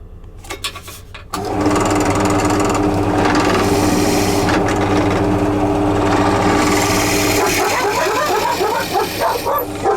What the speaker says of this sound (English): all we need to do is drill a hole through there